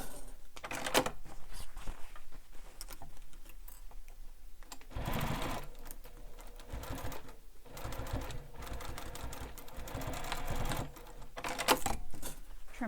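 Sewing machine top stitching across the short ends of a bag, bursts of rapid mechanical stitching separated by brief pauses, close and clear with no talk.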